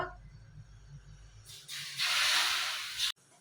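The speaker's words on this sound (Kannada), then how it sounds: "ನಾನು ಹಾಕ್ತಾ ಇದ್ದೀನಿ ನೋಡಿ ನಿಧಾನಕ್ಕೆ ಹಾಕ್ಕೊಳ್ರಿ ಸುಡು ಸುಡು ಎಣ್ಣೆ ಇದು" Very hot oil poured into a Mysore pak mixture of gram flour and sugar, a loud rushing hiss that flares up after a low hum, holds for about a second and a half, then cuts off sharply.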